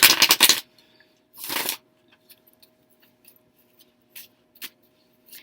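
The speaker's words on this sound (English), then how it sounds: "Reshuffle these." Quick papery riffles of tarot cards being shuffled, two short bursts followed by scattered soft taps and flicks, close by with no talking.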